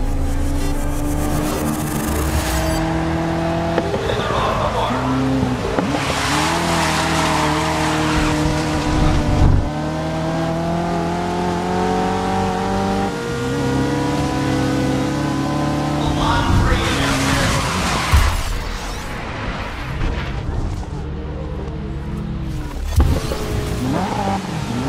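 Race cars in the Grid 2019 video game roar at the start of a race at Silverstone, a loud continuous engine drone with rising revs, gear shifts and occasional tire squeal throughout.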